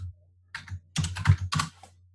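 A computer keyboard is typed on in short, close bursts of clicking keys, with brief pauses between them. A low steady hum runs underneath, and no one talks.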